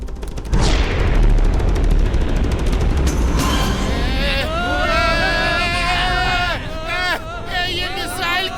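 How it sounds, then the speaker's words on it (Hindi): A cartoon guided missile is fired with a heavy boom and rumbling blast, followed by excited overlapping voices shouting over the lingering roar. "गाइडेड मिसाइल फायर करो।"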